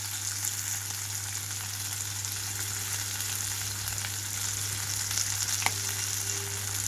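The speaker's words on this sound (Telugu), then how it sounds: "కట్ చేసిన ఉల్లిపాయలు అలాగే పచ్చిమిరపకాయలు వేసుకున్నాను. రెండు నిమిషాల పాటు వేయించుకుంటున్నాను." Chopped onions and green chillies sizzle steadily in a pan for a brinjal curd chutney, a constant close frying hiss with a faint stir or scrape near the end, no voices.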